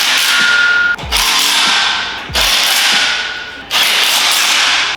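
A bolt is tightened on an incline squat rack in three loud, close bursts of rapid metallic ratcheting, each ending in a thump, with nobody speaking.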